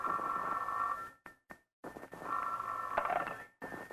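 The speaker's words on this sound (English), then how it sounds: "the next morning, the phone rang early." Old-time radio drama telephone ringing early in the morning: two long bursts of steady electric bell ring, moderately loud, separated by a short silence, with no voices over them.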